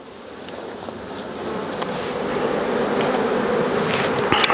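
Honey bees buzz steadily in a dense swarm around a hive where leaked honey lies exposed, the drone swelling gradually louder over a few seconds with no voices.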